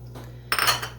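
Knife slicing four green onions (scallions) into small pieces for a ham and cheese pie, heard as a short burst of crisp cutting and clatter against a board about halfway through, over a steady low hum.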